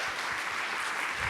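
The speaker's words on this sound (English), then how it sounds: "Can we maybe get a little round of applause for yogurt?" A lecture audience at the Harvard Radcliffe Institute breaks into brief, dense applause, a loud and even burst of many hands clapping together.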